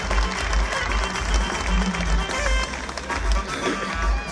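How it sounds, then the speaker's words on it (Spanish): Audience applause at a dwarf bullfighting show in San Miguel de Allende, steady rhythmic clapping from a crowd with thumping beats and a voice over it. "Y esto se aplaude, señores"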